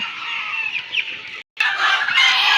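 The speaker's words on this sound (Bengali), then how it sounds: "এই মুরগিগুলা এই যে এটা মুরগি বাচ্চা" A dense chorus of many young Fayoumi chickens clucking and chirping continuously nearby at a poultry farm, briefly cut off by a short gap before resuming loudly.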